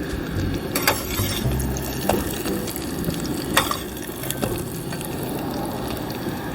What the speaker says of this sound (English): So I want to fry them as much as I can without them getting burnt